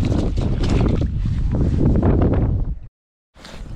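Strong wind buffets a microphone on a fishing boat, a loud continuous rushing roar that drops out suddenly for a moment and then returns.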